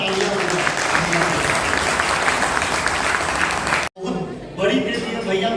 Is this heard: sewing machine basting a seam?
no